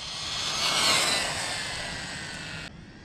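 A DeeRc 1217 budget MJX-clone RC car on 4S with an upgraded VbestLife ESC, its motor whining steadily at partial throttle, swelling slightly then easing before cutting off abruptly near the end.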